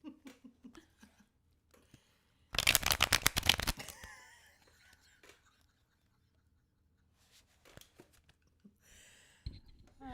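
A deck of cards being shuffled in a quiet room, one short, dense burst of riffling and flapping, close and fairly loud, with soft talking and small handling noises before and after.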